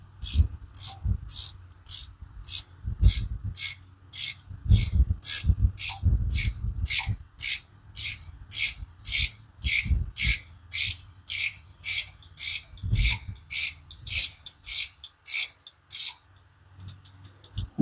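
A ratchet clicks in steady, evenly spaced strokes, about thirty in a row, while bolts on an engine hoist chain are tightened during removal of the engine from a 1995 Camaro Z28, with occasional low clunks and knocks underneath, close and clear.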